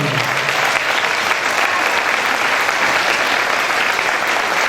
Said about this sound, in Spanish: Forte aplauso para Rubén.